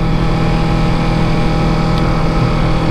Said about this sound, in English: Engine braking.